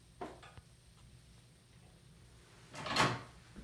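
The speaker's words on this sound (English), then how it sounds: "So we're going to move the chair away" An X-ray positioning chair is pushed away from the bucky, a faint scrape early on, then a louder, longer scraping slide near the end in a quiet room.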